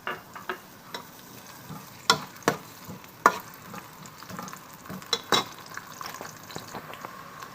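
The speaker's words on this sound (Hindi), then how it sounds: "ये हमने 1 अदद प्याज डाल दिया, इसको अच्छे तरीके से ब्राउन कर लेंगे।" An onion frying in oil in a pan, a soft sizzle under scattered sharp clicks and scrapes of stirring, close and fairly quiet, with no voices.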